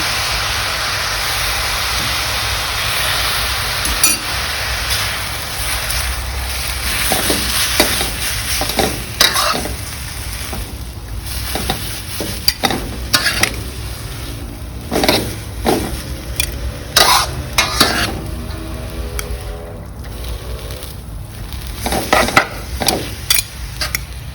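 Mee sua noodles being stir-fried in a pan, with a steady sizzle underneath and repeated sharp scraping and tossing strokes from the spatula, irregular and growing busier toward the end.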